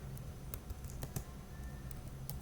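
Computer keyboard keys tapped in a quick, irregular run while an ARP command is entered at a command prompt, faint clicks close by against low background hum.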